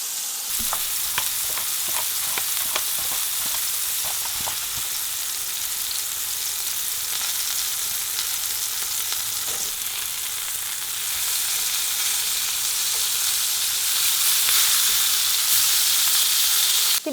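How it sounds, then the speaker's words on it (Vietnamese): A salted and peppered beef burger patty fries in a pan, a steady, close, bright sizzle lasting throughout with a few crackling pops early on, no talking. "Mình chiên thịt bò trong vòng khoảng 3 phút"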